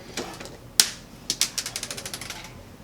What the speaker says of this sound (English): I'm gonna start off screwing these in here